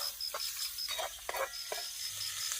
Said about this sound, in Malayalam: ഇതേ പനീറൊക്കെ ഇട്ട് ഇളക്കി മറിച്ച് തവിട് പൊടിയാക്കുന്നുണ്ട്